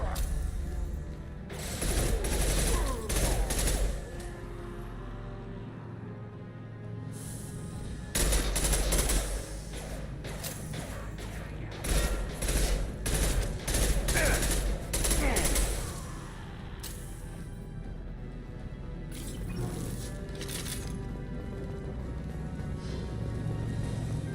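Bursts of rapid, concussive gunfire in Mass Effect 2 pound in long volleys separated by brief lulls, loud and close, with voices calling out between the bursts.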